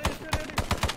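Rapid automatic gunfire from an Arma 3 firefight, a burst of roughly nine sharp shots in quick, uneven rhythm, loud and close, with a faint voice underneath.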